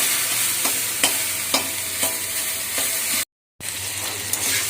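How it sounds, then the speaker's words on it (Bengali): Leafy saag greens fry in a pan with a steady hiss of sizzling while a utensil stirs them in regular taps and scrapes, close and clear. The sound breaks off briefly, then resumes. "আর একটুখানি ভাজবো।"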